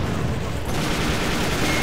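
A grenade blast in the online shooter game AVA, heard as a dense, sustained burst of explosive noise over constant gunfire for about two seconds, loud and filling the whole clip.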